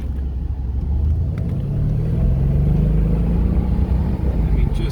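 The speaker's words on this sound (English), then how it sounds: "So here's like a little 10-mile-an-hour curve, and you can barely hear this motor." Engine of a 2013 Mercedes SL550 bi-turbo driven in sport mode through a slow curve, a low, steady, subdued rumble under road noise, with a faint rising tone partway through.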